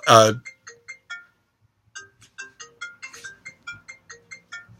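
A phone ringtone plays a repeating electronic melody of short chiming tones, fairly clear, preceded by a brief voice at the start.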